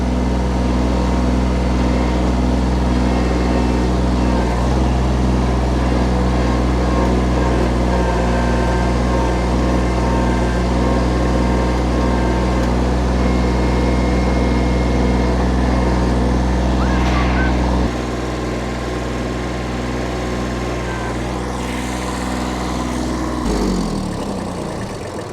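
A small tractor's engine drones loud and steady at close range while its backhoe digs, holding an even idle-like hum before dropping in pitch near the end with a brief clank.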